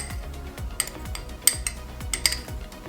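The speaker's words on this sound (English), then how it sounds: "we're going to use our fork and just mix that up a little bit" A fork mixes Splenda sweetener in a bowl, giving quick repeated scraping strokes and sharp metallic clinks against the bowl, close and short.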